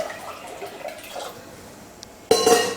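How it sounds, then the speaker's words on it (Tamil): Water poured into a cooking pot to make rice in a home kitchen: after a quiet stretch with faint clinks, a loud, close rush of splashing water starts suddenly near the end. "சாப்பாடு வைக்கிறதுக்கு தண்ணி ஊற்றிடுறேன்."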